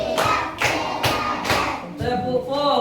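Elementary school pupils clap a rhythmic pattern together, four crisp group claps in an even beat, followed by children's voices chanting.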